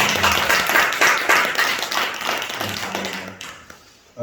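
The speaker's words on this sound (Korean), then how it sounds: "한번 박수 칠까요?" A church congregation claps together during a Sunday worship service, a dense, sustained patter of many hands filling the room before fading out near the end.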